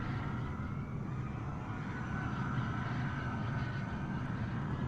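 Continuous roar of a jet aircraft in Microsoft Flight Simulator 2020 multiplayer, a steady broadband engine rumble holding at an even level throughout with no talk.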